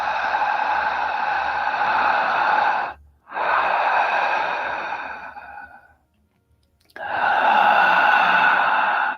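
Deep breaths drawn and pushed out through the mouth in a breathing exercise, two long loud airy exhalations separated by short pauses, then a third beginning, close and alone with no talking.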